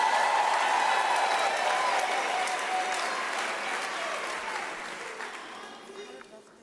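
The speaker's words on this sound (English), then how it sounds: "She deserves another round of applause." Graduation ceremony audience at a university gives a round of applause for a Master of Engineering graduate; dense, many-handed clapping starts loud and gradually fades out, with no talk over it.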